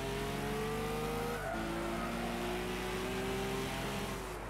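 Racing cars in Gran Turismo 6 spin out with tires skidding and squealing, engine tones sliding and dropping midway before climbing again, a continuous loud game soundtrack of revving motors and screeching rubber with no talk.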